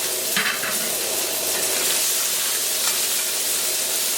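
Mussels sizzling as they cook on a hot plancha, a loud, steady frying hiss that runs without a break, with an occasional clink of a utensil stirring and no talking.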